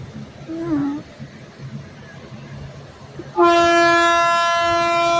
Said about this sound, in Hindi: अब हमारी ट्रेन यहाँ से भी निकल चुकी है